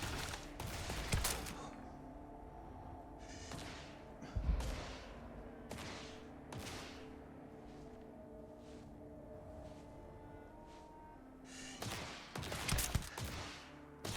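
Scattered gunshots in Starfield crack out in short isolated bursts, with a quick cluster at the start and another near the end, set against a quiet tonal game background and no talking.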